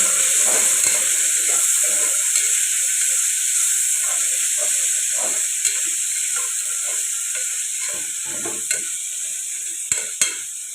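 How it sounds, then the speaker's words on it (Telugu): Green peas fry in a pan with turmeric, giving a loud, continuous sizzle with steady hiss, broken by occasional scraping stirs and small clicks, with no talking. "ఇప్పుడు మోప పెట్టుకొని ఫ్రై చేద్దాం ఇప్పుడు బఠానీ అయితే ఫ్రై అయింది కదండి"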